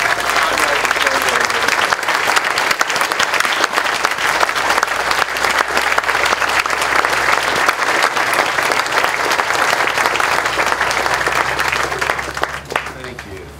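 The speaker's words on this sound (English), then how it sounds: "you deserve one more round of applause" An outdoor crowd at a veterans' park dedication gives veterans a long, sustained round of applause, steady and full for over twelve seconds before tapering at the end.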